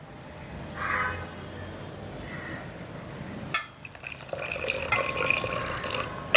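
Water poured into a grated-coconut and egg mixture for steamed egg (dim bhapa), a soft splash early then a steadier trickling pour toward the end, quiet and close with no talk.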